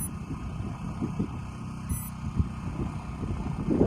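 A single short, high electronic beep from a drone sensor sounds midway over a low, steady mechanical rumble.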